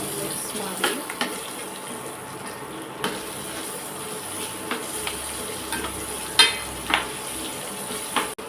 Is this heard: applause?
no